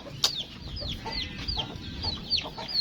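Chickens on a poultry farm cluck and cheep repeatedly at close range, a busy overlapping flock with no talk.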